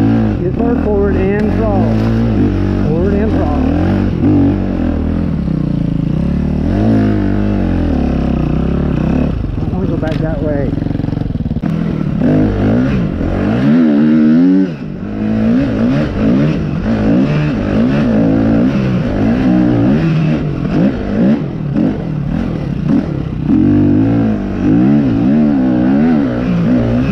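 A vehicle engine revs under throttle, its pitch rising and falling in repeated surges, with a brief dip partway through before it picks up again. The engine is loud and close throughout.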